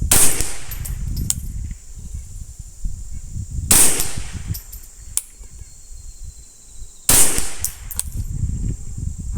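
Three sharp rifle shots from a Ruger 10/22 firing Midas+ rimfire ammunition, spaced several seconds apart, each a loud crack with a brief tail, quiet outdoor ambience between them.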